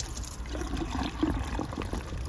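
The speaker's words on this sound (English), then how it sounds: "I'm going to take the soapy water and I'm going to pour it in there" Soapy water is poured into a car's windshield washer fluid reservoir, a short, close, splashing gurgle of liquid that runs steadily throughout.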